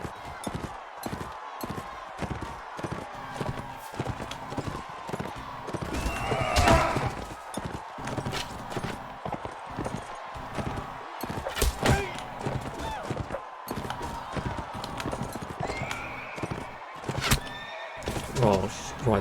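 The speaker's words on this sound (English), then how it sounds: "I'll be taking this horse." Horses in Mount & Blade: Warband gallop with rapid, rhythmic hoof thuds and let out loud neighs and whinnies, in a busy game scene where a voice speaks intermittently.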